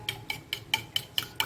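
A spoon beats cake batter in a bowl in quick, even strokes, about seven sharp clinks in a row.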